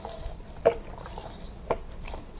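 Fish sauce from a small bottle goes into a jar of pickled limes. Two soft, separate drips or splashes land about a second apart, close up, against a quiet room background.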